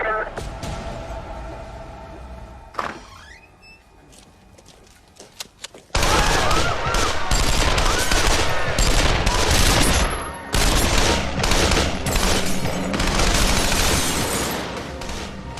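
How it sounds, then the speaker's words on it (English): Sustained automatic gunfire from the North Hollywood bank shootout erupts midway and rattles on loudly and continuously, after a quieter opening of radio-like chatter and a few scattered bangs. "The officers outside are stunned to hear automatic gunfire."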